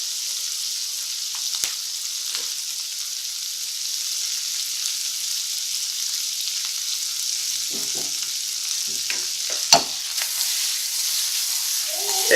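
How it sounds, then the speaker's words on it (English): Pasta sizzles in a hot pan for shrimp scampi, a steady close frying hiss broken by occasional clinks and scrapes as it is stirred. "Going to stir up our pasta."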